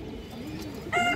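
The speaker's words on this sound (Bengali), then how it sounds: "একজোড়া খরা গলা কবুতর আছে, এই যে দেখেন পুরান লাইনের খরা গলা কবুতর" A pair of old-line khora-gola pigeons coo softly in a low, drawn-out murmur, close but quiet, ending with a brighter, higher call.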